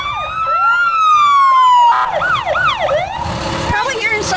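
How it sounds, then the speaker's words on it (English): A loud, close sheriff's vehicle siren at a town parade wails and sweeps in pitch, then switches to a faster yelping pattern, with engine rumble beneath. "Probably hearing sirens in a parade is about the only time you can hear them and enjoy them."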